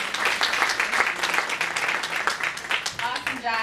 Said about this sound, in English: Can we give Dr. Ray another round of applause, please?